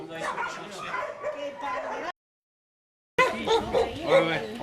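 Greyhounds on a trip in Spain, barking and yipping in short bursts close by, broken by a brief pause, with people talking over the dogs.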